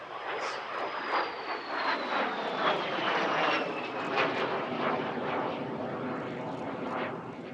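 Ex-Swiss de Havilland Vampire jet of the Norwegian Air Force Historical Squadron passing at an airshow, a broad roaring rush with a falling whine as it sweeps by, loud and sustained at a distance.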